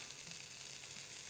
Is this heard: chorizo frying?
yes